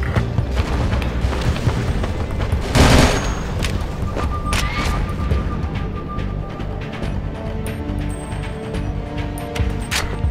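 Dense gunfire and explosions from the PS2 war game Battlefield 2: Modern Combat, a continuous loud fusillade with a heavier blast burst partway through and no talk over it.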